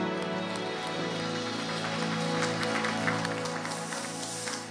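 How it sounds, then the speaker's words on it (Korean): A church congregation at a youth worship service claps in praise to the Lord, a dense, steady patter of many hands that fills the room throughout, with organ or keyboard tones sustained underneath. "주님께 영광의 박수 올립시다"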